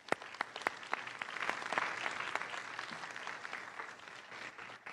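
An audience at a community resilience session applauding presenters, scattered sharp claps at first that swell into fuller, sustained clapping from a modest crowd, heard at a moderate distance and gradually thinning.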